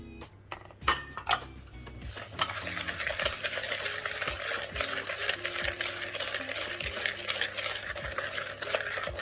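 Carrot cake batter with cinnamon and sugar being mixed in a bowl, a few knocks at first, then a steady scraping, swishing stir with light clinks of the utensil against the bowl, close and fairly quiet.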